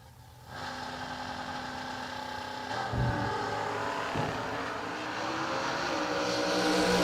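A drag racing car runs at full throttle off the throttle stop near 135 mph, a steady engine roar that builds gradually in loudness throughout, with no talking.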